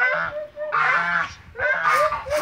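Farm geese honk loudly and close by in three drawn-out, nasal calls separated by brief gaps.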